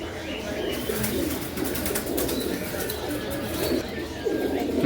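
Dragon pigeons coo in low, repeated throaty bursts close by, with rustling and other bird chirps mixed in and faint talk in the background.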